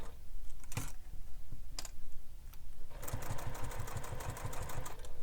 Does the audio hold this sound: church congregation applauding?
no